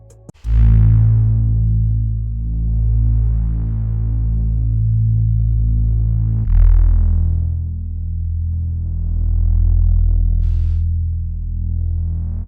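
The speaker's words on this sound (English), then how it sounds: "This bass kind of drives the whole beat and it sounds like this." Deep Omnisphere bass preset from a Lifestyle bank drives a pain-style beat, long booming sustained low notes swelling and fading, changing pitch once midway, loud and alone without talk.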